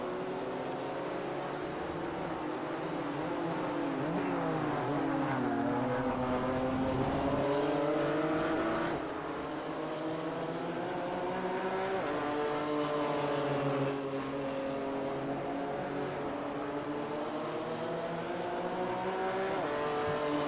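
ChampCar race cars lap Sebring in iRacing. A distant, even engine drone rises and falls as they shift gears and pass, with no voices over it.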